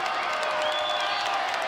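A college wrestling arena crowd during a dual meet, a sustained loud roar of voices and shouting, with a whistle-like tone rising briefly above the din.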